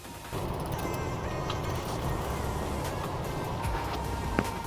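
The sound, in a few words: ratchet loosening a bolt on a car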